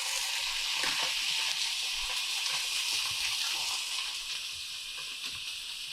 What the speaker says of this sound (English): Make sure that the pan is hot when you do this. Put your steak there.